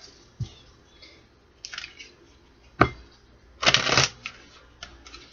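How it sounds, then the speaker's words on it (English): Tarot cards being shuffled by hand, close and soft: scattered short riffles and taps, with a longer, louder burst of riffling near the end. "Alright, one more shuffle."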